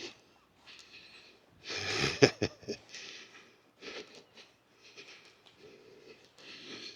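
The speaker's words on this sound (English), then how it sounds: "Excuse my sniffing" Someone on a coastal walk sniffs and snorts in short, uneven bursts close to the microphone, with a louder cluster near the middle and quiet gaps between.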